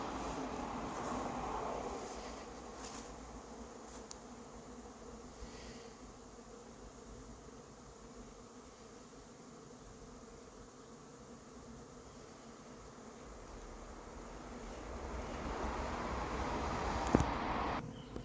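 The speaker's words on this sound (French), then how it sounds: "entre deux abeilles qui essaient de me piquer, j'ai tapé sur la branche plusieurs fois" Honeybee swarm on a branch near Ozoir-la-Ferrière, a dense steady hum of many bees close by, swelling slightly at the start and end with a few sharp knocks of the branch being struck.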